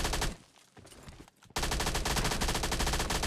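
Rapid automatic gunfire in the mobile battle game PUBG Mobile Lite, loud dense bursts at the start, a brief quieter gap with scattered shots, then sustained heavy firing to the end.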